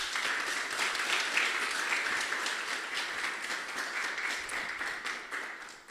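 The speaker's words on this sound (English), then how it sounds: "Another round of applause for the allies as well," An audience at a climate accelerator demo day applauds, a sustained, even patter of many hands clapping that stays steady for several seconds and then tapers slightly at the end.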